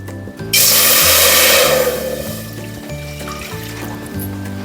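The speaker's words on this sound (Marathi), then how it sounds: "टोप आपलं तापलं आहे आता आपल्याला हे पाणी टाकायचं आहे" Water poured into a heated cooking pot, set to boil for a jaggery or sugar syrup, bursting into a sudden loud hiss that slowly fades, with steady background music underneath.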